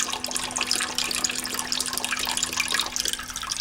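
Beef stock pours from a container into a stew pot for a beef vegetable stew, giving a steady close splashing, gurgling stream of liquid that runs without pause through the short stretch.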